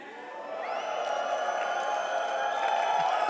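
A large crowd at an esports major stage cheers and whoops, building steadily into a broad, sustained roar in a big arena.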